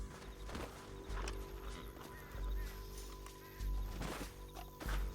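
Hooves clip-clop in a repeating gallop rhythm over a low rumbling background, with faint game-like ambience and no clear speech, from a horse in Red Dead Redemption II.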